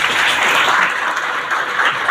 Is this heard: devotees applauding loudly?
yes